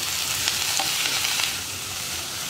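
Grated beetroot stirred in a hot pan, a steady soft sizzle with light scraping strokes, close and continuous, with no talk over it.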